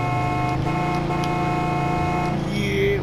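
Car horns honking in the Mafia II video game, a sustained buzzy tonal blare held for about two and a half seconds over engine rumble, loud and close, then cutting off.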